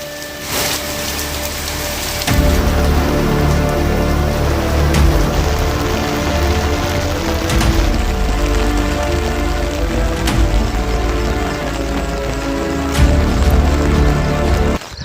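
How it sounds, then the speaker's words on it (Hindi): Heavy rain pours down in a dense, continuous roar over a flooded village, drumming on surfaces with scattered louder splats throughout. "बहुत तेज हो गई बारिश"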